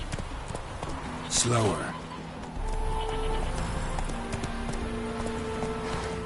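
Horse hooves clip-clop at a run in the video game The Witcher, a steady rhythmic beat under a short spoken remark, with a brief neigh-like burst early on.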